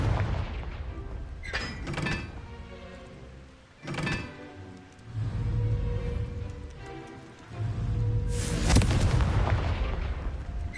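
Confringo spell explosions in the video game Hogwarts Legacy, with several heavy booming blasts and crackling bursts spaced a few seconds apart over a low rumbling background, loud and close, with no speech.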